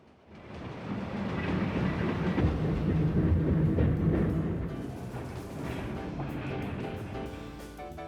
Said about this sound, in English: the Transbay electric trains that cross the bay on the bridge's lower deck